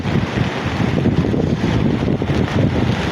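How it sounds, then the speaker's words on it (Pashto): The flooded Swat River rushes by with muddy water, a loud, continuous roar with gusting wind across the microphone, heard close to the bank. "داسې خړې اوبه بهیږي داسې خړې اوبه"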